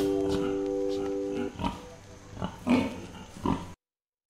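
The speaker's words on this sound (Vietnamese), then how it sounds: "Năm con lợn." Farm pig grunts and oinks come in several short snorting bursts at moderate distance, spaced irregularly over a steady background hum, with a brief tonal jingle at the start.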